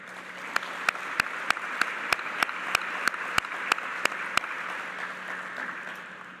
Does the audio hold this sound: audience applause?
yes